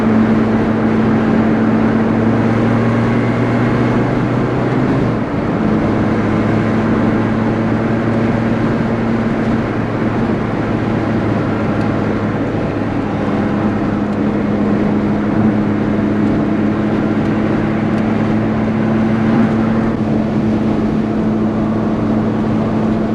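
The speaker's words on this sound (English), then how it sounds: "It's just a little bit of supercharger noise, quite a bit of tire noise as well, because I've got semi-slicks on this car." Inside a Lotus Exige S on semi-slick tires cruising the motorway at twilight, a steady cabin drone of road and tire roar carries a faint supercharger whine, continuous and even with no talking.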